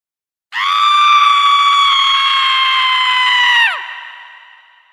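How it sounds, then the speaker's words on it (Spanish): A single loud, sustained high-pitched scream holds for about three seconds, then breaks off sharply with a falling tail, alone with no talk. "Fue un grito desgarrador"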